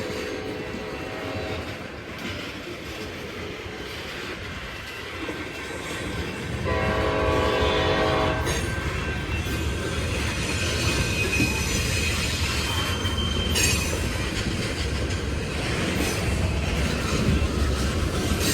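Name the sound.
Union Pacific freight train of ethanol tank cars passing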